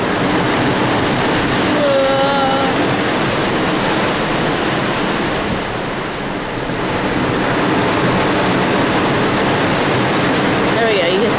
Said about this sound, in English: oh, you can see how windy it is